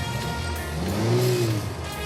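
A car engine revs briefly, the pitch rising and then falling over about a second against a steady idle and faint background hum.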